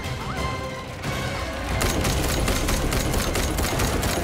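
Rapid bursts of automatic gunfire aimed at NPCs in the online shooter The First Descendant, loud and continuous with dense repeated shots and crashing impacts that build up partway through.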